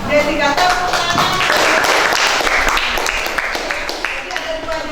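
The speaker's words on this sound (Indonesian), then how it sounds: "Tepuk tangan." Schoolchildren clap for a classmate during a classroom lesson, loud and close, with voices chattering over the sharp claps.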